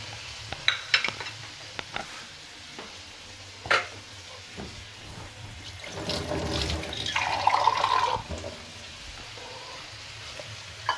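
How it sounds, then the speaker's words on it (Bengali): A little water is poured into a pan while cooking, the rinse from a tomato ketchup bowl, bringing a brief gush and sizzle among soft stirring clinks and taps in a quiet kitchen. "সামান্য একটু আমি জল দেব।"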